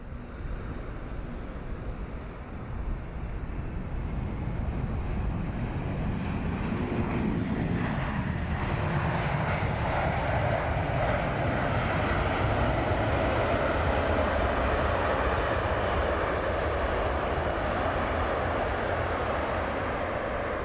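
A United airliner crosses the threshold to land at London Heathrow Airport in a crosswind, its engines a loud, steady roar that swells slightly and holds for the whole stretch, with no talking.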